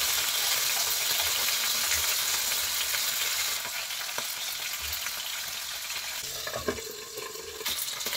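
Chicken pieces frying in hot oil in a pan, a loud continuous sizzle close up with a few stirring knocks, no talk.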